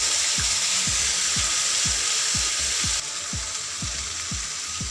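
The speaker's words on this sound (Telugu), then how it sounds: "ఇదంతా ఒకసారి మిక్స్ చేసి ఆయిల్లో వేగనిద్దామండి ఇవన్నీ." Ginger garlic paste fries in hot oil for a green chilli pickle, giving a steady broadband sizzle with a regular series of soft clinks from stirring, close and loud with no speech.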